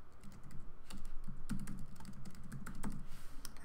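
Rapid typing on a computer keyboard, a steady run of close, crisp key clicks with a few heavier strokes, alone without talk.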